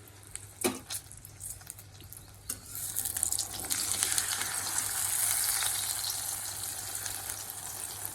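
Water poured into a pot of cooked rice, a rising rushing gush that swells and holds, following a few clinks and scrapes of utensils; no talking.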